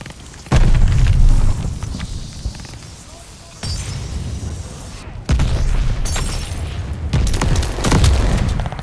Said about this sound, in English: They're sending mortar shells.